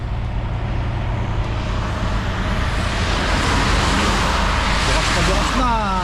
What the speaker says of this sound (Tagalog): Salubong-salubungan na, malalaking truck.